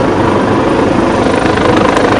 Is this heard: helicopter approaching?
yes